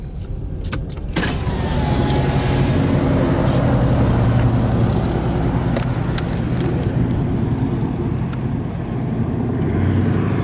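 Car driving through Palatka, Florida near the St. Johns River: a steady, loud road and engine rumble with cabin hum fills the interior, following a few short clicks and thumps at the start.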